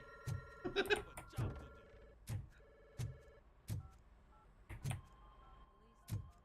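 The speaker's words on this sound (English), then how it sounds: "your phone's ringing, RoboCop" A phone rings in Robocop: Rogue City, several repeated electronic ring bursts spaced through the stretch, moderately loud and close, with scattered game sounds between the rings.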